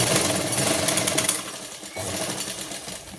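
Sewing machine stitching an elastic waistband onto palazzo pants, running in a loud steady rapid whir that briefly pauses near the middle before resuming.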